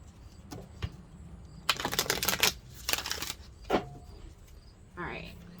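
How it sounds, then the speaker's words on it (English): A Halloween-themed tarot deck is shuffled by hand, bursts of rapid riffling card flutter in a few short bouts, close and fairly quiet, with speech in between. "I think the more I use it, it's easier to shuffle."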